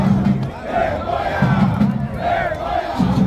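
Football supporters in a stadium protest after a 4-0 defeat, chanting a rhythmic two-beat shout in repeated bursts, loud massed voices close by.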